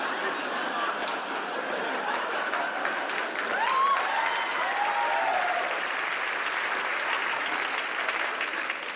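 A comedy audience claps in a sustained wave of applause, dense crackling hand claps with some scattered laughs and chatter, steady and fairly loud for several seconds.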